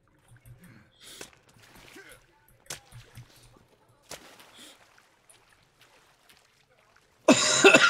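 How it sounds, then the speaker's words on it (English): A short cough in a survival video game, a few faint isolated bursts spread over quiet background, followed by a sudden loud rush of noise at the end. "How long have you had that cough for?"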